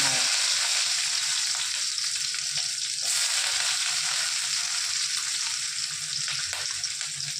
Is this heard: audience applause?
no